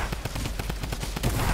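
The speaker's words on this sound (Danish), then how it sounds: "Han har en stormgun under mig" Rapid bursts of gunfire from a storm gun in Fortnite, a quick close string of sharp shots repeating in a fast rhythm for a brief moment.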